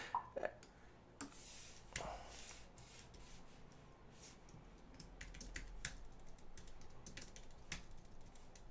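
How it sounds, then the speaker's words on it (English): Someone types on a computer keyboard at home, quiet irregular clicks and taps in short bursts with pauses, heard close but soft, with no talking. "How fun is it to see me typing?"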